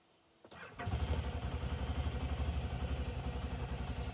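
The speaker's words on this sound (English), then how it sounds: "let's listen to that engine note too." A side-by-side UTV engine cranks and catches, then settles into a steady, throbbing idle with a slightly rough mechanical rhythm, loud and close.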